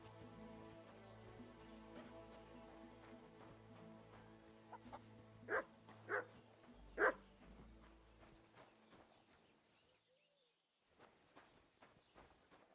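A dog in the medieval role-playing game Kingdom Come: Deliverance II gives three sharp barks in a row over a steady bed of game ambience and background music.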